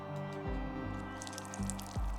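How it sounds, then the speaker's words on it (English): Water added by hand drips and splashes in a few short, squishy bursts close by, over a steady background hum. "I'll go and add some water."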